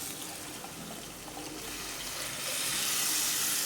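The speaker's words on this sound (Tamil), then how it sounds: "இந்த டைமில் பார்த்திங்கன்னா ஒரு செம்புக்கிட்ட தண்ணி அதில் ஊற்றிடுங்க." Water from a small vessel is poured into a pot of simmering kurma, a hissing, splashing rush that grows louder toward the end, with no voices.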